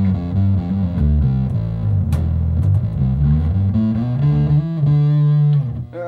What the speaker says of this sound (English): And then the overdrive. So you can hear it adds a lot of noise.